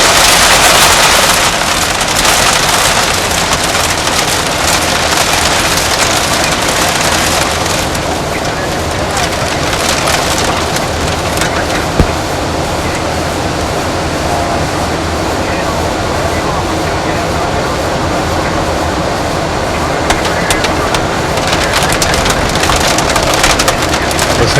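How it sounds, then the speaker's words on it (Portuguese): Heavy rain drumming on the cockpit windshield of a Boeing 737-800 in turbulent weather, a loud, dense, continuous patter with occasional sharper hits throughout. "Você já vai escutando o barulho do impacto da chuva no para-brisa."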